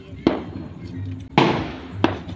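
Diwali firecrackers burst nearby in three sharp, loud bangs with short decays, and voices can be heard faintly between the blasts.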